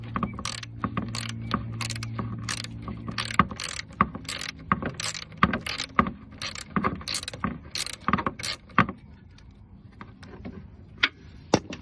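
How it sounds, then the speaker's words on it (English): A ratchet backs out a 10 mm bolt from the ATF line bracket on a Mercedes-Benz E320 W210 during radiator replacement, giving quick runs of close metallic clicks with a low mechanical hum beneath them early on. "You're going to need to remove the bolt, so I'm going to move that right now."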